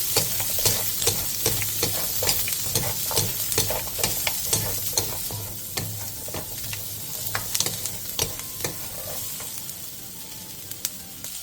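Vegetables stir-fried in a pan for a Korean side dish give a close, continuous sizzle, broken by frequent sharp clicks and scrapes as they are tossed, with no talking.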